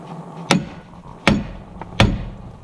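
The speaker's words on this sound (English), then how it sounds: "Use the other end of your other side of your hammer." A hammer strikes something three times at a ranch while weaning foals. The blows are sharp, loud and close, spaced roughly three-quarters of a second apart, each with a short ringing decay and no talk over them.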